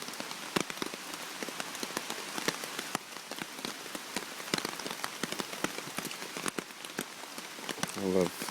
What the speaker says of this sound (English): I love the sound of rain in the tarp.